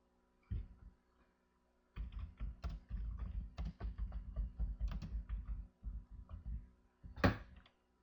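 Bursts of clicking keystrokes on a computer keyboard in a steady run, fairly close, with brief pauses between them and a louder knock near the end.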